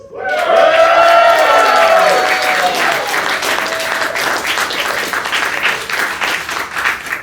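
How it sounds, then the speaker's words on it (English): A crowd at a wrestling event claps and cheers, opening with a brief burst of loud cheering that settles into thinner, scattered applause. "That was the most pathetic clap ever."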